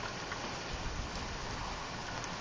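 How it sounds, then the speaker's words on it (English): Heavy hurricane rain pours down near the Nueces River in Corpus Christi in a dense, constant hiss with no pauses, steady and enveloping. "It's raining pretty bad out here right now."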